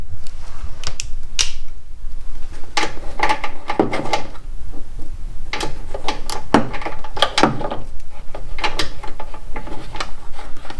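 A 1/4 inch drive socket ratchet loosens the guard bolts on a TimeCutter SS5000 mower deck, producing loud, close, rapid ratcheting clicks in repeated bursts that run almost without pause.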